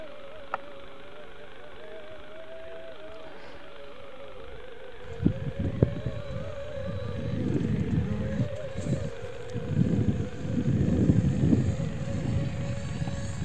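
A small VTOL drone aircraft hums steadily overhead with a whining propeller tone, then gusty rumbling and bursts of motor roar build as it maneuvers closer; occasional voices are faintly heard.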